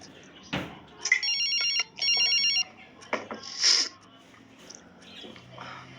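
A classic telephone bell rings in two short trilling bursts, fairly loud, among scattered household noises and a brief high squeak.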